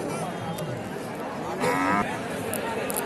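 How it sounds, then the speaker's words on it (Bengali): A cow at Mataji cattle market, where meat cattle are traded, gives a short, mid-pitched moo lasting under half a second. The call rises out of a steady bed of crowd murmur and market bustle. "এখানে একটা গরু আছে দেখেন"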